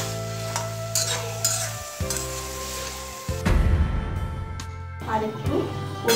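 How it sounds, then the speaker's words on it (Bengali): Chicken pieces stir-fried with spices in hot oil for a homemade chicken biryani, giving a steady close sizzle with repeated stirring and scraping in the pan, louder bursts in the middle and toward the end. "মাংসটা আমরা তেল ছেড়ে না আসা পর্যন্ত কষাতে থাকবো, ভালো করে মশলাগুলোর সঙ্গে একটু মিশিয়ে নিতে হবে।"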